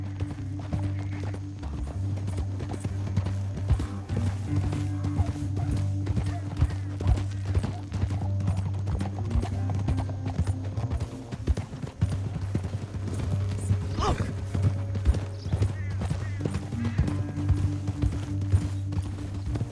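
Horse hooves clip-clop in steady rhythm across a Red Dead Redemption 2 scene, held under a continuous low musical drone, with a brief spoken exclamation over it.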